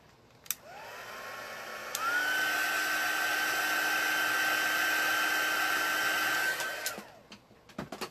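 Heat tool drying watercolor pencil and ink on a craft project, switching on with a rising whine, stepping up to a higher, steady fan tone for several seconds, then winding down, fairly close with nothing else over it.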